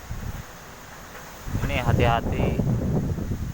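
Strong wind on the Pelabuhan Ratu coast roars and buffets the microphone as a steady broadband rush that swells louder midway, while someone speaks briefly over it.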